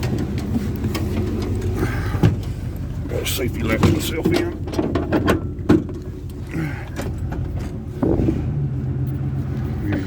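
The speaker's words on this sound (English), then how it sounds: "Come on, truck noise, giddy up." A truck engine rumbles steadily while people talk over it, with occasional clunks and rattles from inside the cab, driving through Moratock Park in Danbury, North Carolina.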